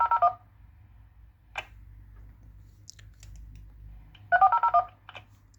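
Two quick bursts of DTMF identifier tones sent by a Baofeng UV-5R handheld radio at the start of a transmission, clipped beeping sequences separated by a few soft clicks against a quiet hum.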